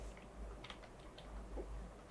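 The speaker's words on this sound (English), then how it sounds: "I'm typing upside down" Computer keyboard typing, done with the keyboard upside down, gives a steady patter of faint, uneven keystroke clicks over a low background hum.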